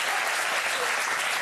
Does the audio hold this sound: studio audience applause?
yes